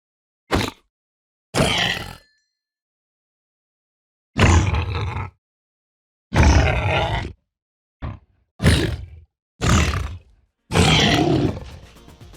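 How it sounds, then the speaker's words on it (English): Baby piglins zombifying in Minecraft Snapshot 20w09a make a series of eight short, separate grunting, roaring cries, each set apart by silence, fairly loud and close with no talking. "the baby piglins now have a high-pitched sound when they zombify"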